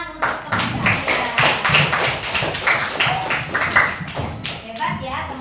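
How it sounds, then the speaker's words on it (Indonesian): Students in a classroom clap their hands in applause, a dense run of sharp, close claps that rises and falls over several seconds. "tepuk tangan untuk teman kalian"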